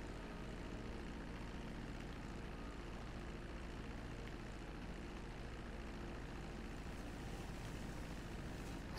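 A propeller airplane comes in to land in GTA 5, a constant droning engine roar that stays steady and fairly loud for the whole stretch, with no voices over it.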